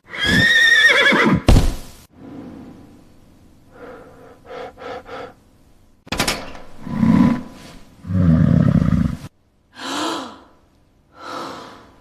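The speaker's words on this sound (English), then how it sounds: "This horse was shipped in 3 months ago from the Rothschild family's private ranch." A horse imported from a private ranch neighs and whinnies loudly and close, with snorts and heavy breaths between the calls, several separate outbursts with no talk over them.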